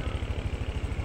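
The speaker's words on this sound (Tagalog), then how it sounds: "may tumatawid na tricycle" A motor tricycle's engine putters close by in a quick, pulsing rhythm as it passes.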